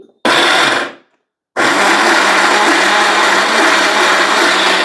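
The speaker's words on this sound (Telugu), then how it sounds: "రివర్స్ లో తిప్పాలి దాన్ని మిక్సీని" A mixer grinder whirs loudly, cuts out for a moment, then starts again and runs at a steady, harsh roar.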